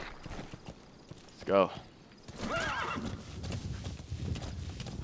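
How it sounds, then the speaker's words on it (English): A horse in the video game Metal Gear Solid 5 neighs once, then its hooves clip-clop as it sets off, with someone talking briefly over the game sound. "Back on this motherfucking horse."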